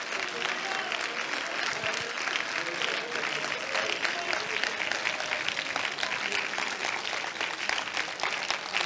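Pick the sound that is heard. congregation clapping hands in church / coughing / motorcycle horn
congregation clapping hands in church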